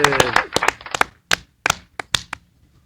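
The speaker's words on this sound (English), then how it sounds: "clap it up for Kellan." A few people clap to welcome a guest onto a sports podcast, sharp separate claps that start dense and then thin out to scattered single claps, close and dry in a small room.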